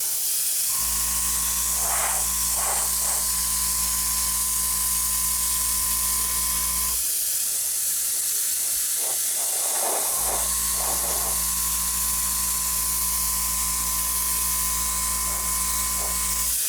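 Spray paint goes on in light coats over a painted prop dummy with a continuous airy hiss. A steady mechanical hum runs underneath, briefly cuts out, then resumes, with faint clicks along the way. No voices are heard.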